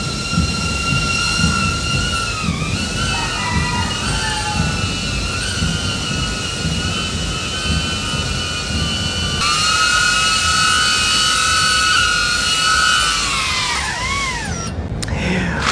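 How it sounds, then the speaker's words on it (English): A DJI Avata drone fitted with HQProp 5-blade propellers flies close by, giving a loud, steady, high-pitched buzzing whine whose tone dips and rises as it manoeuvres. "this HQProp 5 propeller, it has a lower pitch compared with the stock"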